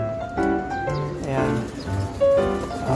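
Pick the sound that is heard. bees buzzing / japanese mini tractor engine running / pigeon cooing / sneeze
pigeon cooing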